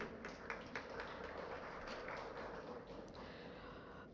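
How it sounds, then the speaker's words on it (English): Audience applause for guests at a media conference flash talk session, a steady, faint wash of many hands clapping at a distance in a large room. "A big round of applause for the guests, please."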